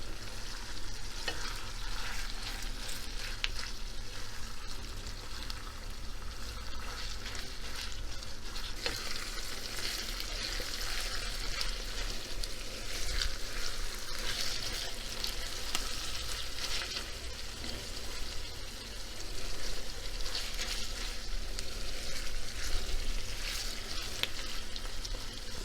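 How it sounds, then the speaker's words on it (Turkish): Ground beef mince fries in a pan with a continuous, even sizzle and occasional stirring scrapes, close and steady throughout. "Kıymamız çok güzel kavruluyor."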